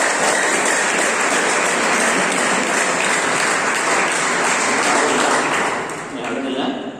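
A crowd claps loudly and continuously at a college birthday celebration honoring mathematician Srinivasa Ramanujan, then the applause tapers off near the end.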